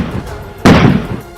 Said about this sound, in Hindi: पुलिस की तरफ से छोड़े गए आंसू गैस के गोलों की वजह से वहां तेज धमाके जैसी आवाजें सुनाई दी